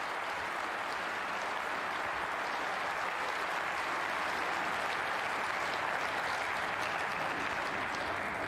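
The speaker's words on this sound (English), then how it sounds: "the applause you heard was for Tepchara Nu, who's beaten Jamie Clark for 5-1" Steady, dense applause from a snooker audience at the German Masters, a continuous wash of clapping that holds at an even level for the whole stretch without any voices.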